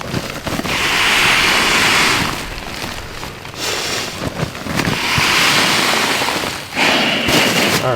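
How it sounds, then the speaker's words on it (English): Air is blown from several inches away into a sleeping pad inflation sack, giving two long, loud, rushing breathy gusts separated by a brief softer lull, close to the microphone. "you blow into it from 6 to 12 inches away"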